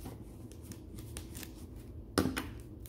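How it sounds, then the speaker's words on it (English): A knife slices open a dyed plant stem from a plant transport kit, giving a soft scraping run of small cuts and then one sharper, louder crunch near the end, close by. "I'm gonna cut it open, or you can break it apart with your hands, whatever works for you. I'm gonna use a knife."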